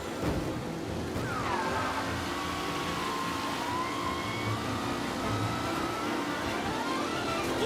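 Race cars in Mafia Definitive Edition roar past, with droning engines whose pitch sweeps up and down as vehicles pass, forming a continuous loud wash of motor noise.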